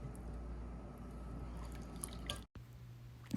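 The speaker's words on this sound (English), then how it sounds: "And then we'll pour the liquid." Pickling liquid is poured into a jar packed with beets and eggs, a steady, quiet liquid trickle and splash running for about two and a half seconds before stopping abruptly, followed by a faint low hum.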